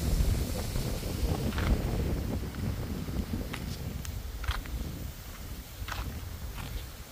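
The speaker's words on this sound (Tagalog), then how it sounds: "Lakas ng hangin, guys." Strong wind blows across the microphone outdoors as a steady, fairly faint broadband roar that slowly eases, with a few light clicks and taps but no talking.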